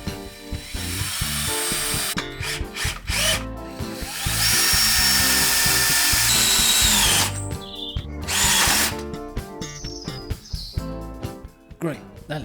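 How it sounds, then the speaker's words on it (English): A power drill drives screws into an oak desk base in several bursts of whirring, with clicks and knocks of the wood between runs, and someone talks at times. "I'm gluing and screwing these all together."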